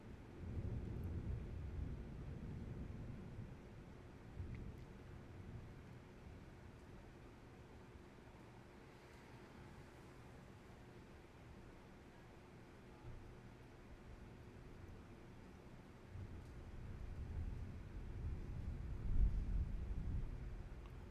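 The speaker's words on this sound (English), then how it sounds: "if you guys can hear that thunder in the background" Distant thunder rumbles low and steady before rainstorms in Rockwall, Texas, with heavier rolling swells near the start and again toward the end, no talking.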